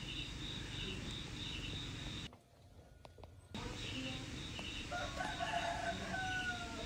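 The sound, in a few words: F2 jungle fowl rooster crowing and clucking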